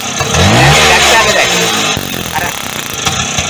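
A motorcycle engine fitted with a new three-port ignition coil starts up and revs loudly, settling into a steady idle with some clatter.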